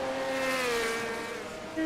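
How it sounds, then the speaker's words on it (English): Race car engines roar steadily in a sustained whine on the Lee Speedway track during a winter series race, a high engine tone sliding downward as cars pass, loud and continuous throughout. "That's what the cars sound like, Weaver."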